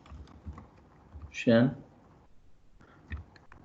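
Keys clack on a computer keyboard as code is typed, a few soft taps, one louder burst of clatter, then more light taps.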